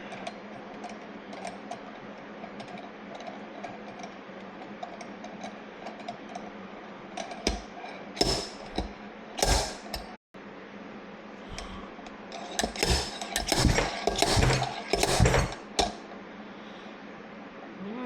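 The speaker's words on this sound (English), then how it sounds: "Drop trusty old slide hammer on there." Slide hammer blows knock a wheel bearing out of a C50 hub, sharp metallic impacts first in a few separated hits, then a rapid cluster of loud clanks against a steady background hum.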